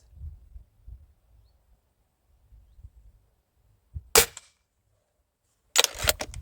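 An old pellet rifle fires, giving a sharp, close crack that stands out against a quiet outdoor background, followed moments later by a second, longer snapping report.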